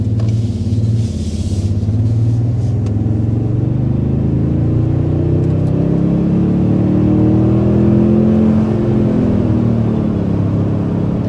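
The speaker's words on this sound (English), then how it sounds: "first we need to go ahead and start with a hard acceleration" A 2025 Toyota Tundra 1794 pulls hard under full acceleration, its engine a loud, continuous low rumble that climbs steadily in pitch from inside the cabin, with no talking.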